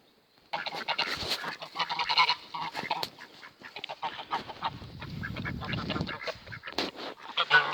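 A flock of geese honks and cackles continuously as they are herded to a new pasture on a farm, a dense chorus of nearby calls with rustling movement, no talk.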